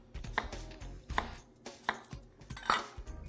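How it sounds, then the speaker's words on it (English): A knife roughly chops green vegetables on a board in a home kitchen, four distinct, fairly close chops spaced under a second apart, with no talking. "I'm just going to give that the same treatment, just a rough chop."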